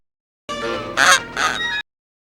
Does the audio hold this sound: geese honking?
yes